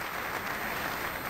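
Crowd applauding at a ten-pin bowling match in an arena at the Metrodome in Barnsley, a steady wash of clapping at moderate distance, with no voices over it.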